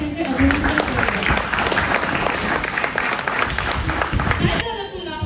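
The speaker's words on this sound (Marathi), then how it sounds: "जोरदार टाळ्या वाजवून आपण त्यांचे अभिनंदन करूया" Loud, dense applause from an audience at a Parents Day celebration at a church, a steady wash of clapping lasting several seconds before easing off near the end.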